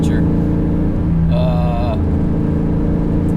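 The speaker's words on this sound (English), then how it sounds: "This is the auto leveler, but it's a really loud car." A loud 2003 Cobra track car idles with a heavy, steady engine rumble throughout, close and unbroken, while a voice briefly rises over it.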